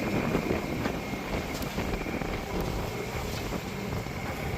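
A sailboat motoring under engine into a headwind on open water, with a continuous rumble and heavy wind buffeting the microphone throughout.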